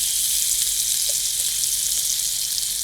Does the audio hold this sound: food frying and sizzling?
yes